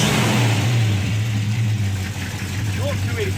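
A restored 1965 Chevrolet Nova Super Sport with a 283 V8 idles close by, giving a steady, even low rumble that holds throughout without revving.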